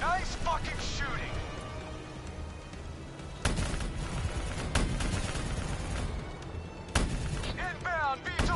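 Gunfire in the Black Ops 3 video game: dense, continuous shooting with heavy booming blasts near 3.5 and 7 seconds, all under shouted voices from players.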